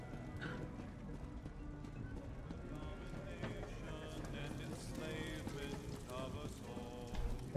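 Horse hooves clip-clopping in The Elder Scrolls Online, a steady trotting beat running through the whole stretch beneath a busy game mix, with someone talking over it.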